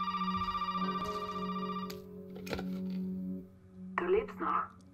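A telephone rings in the Resident Evil 7 video game, a steady electronic ring with repeating tones that runs under game ambience for several seconds, followed by brief voice-like sounds near the end.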